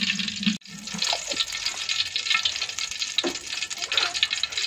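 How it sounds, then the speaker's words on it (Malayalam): Ghee sizzles and crackles in a heated clay pot as biryani cooking begins, a dense bright frying hiss that runs throughout with a few soft stirring scrapes and no talking. "നെയ് ഒഴിച്ച് കൊടുക്കാം"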